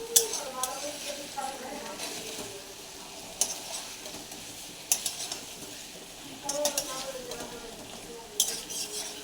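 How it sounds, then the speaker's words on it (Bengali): Raw rohu fish pieces are turned over in a hot pan with a spatula, giving repeated close scraping and clinking strokes over a low sizzle, with a few brief louder knocks. "কাঁচা মাছ দিয়ে ভালো করে এটাকে নাড়াচাড়া করে নেব"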